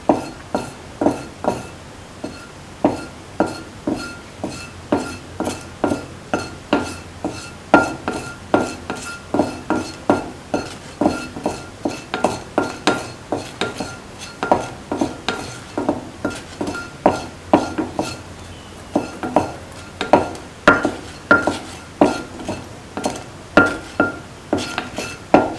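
A spoon stirs and scrapes a pan as a dates pickle is sautéed, making a steady rhythmic run of metallic clinks and scrapes, close and alone.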